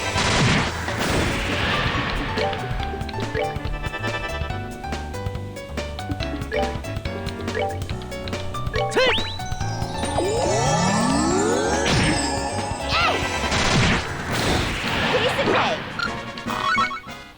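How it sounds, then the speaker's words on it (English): Airstrike explosions in the video game Trails in the Sky FC: loud, dense crashing booms and impacts, with sweeping tonal effects and game music layered throughout, continuous for the whole stretch. "Let's do an airstrike."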